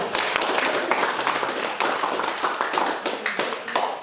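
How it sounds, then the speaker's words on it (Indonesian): A primary school class claps together in a classroom, steady dense applause lasting several seconds with individual sharp claps standing out, close by and filling the room. "kasih tepuk tangan lagi satu kali lagi."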